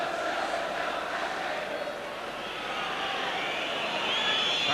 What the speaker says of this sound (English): Frantic whistling in the crowd.